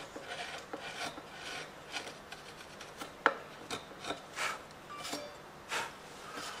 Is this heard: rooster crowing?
no